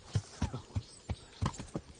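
Horse hooves clip-clopping at a steady walking rhythm in the medieval video game Kingdom Come Deliverance, soft muffled thuds repeating about three times a second, fairly quiet and with no talk.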